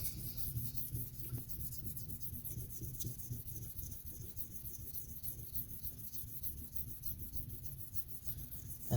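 Knife being freehand sharpened on an F400 grit stone, a steady close rasping scrape of steel across the stone that continues without a break.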